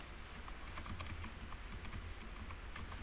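Soft, irregular clicks of a computer keyboard being typed on while working in Photoshop, faint and steady over a low background hum.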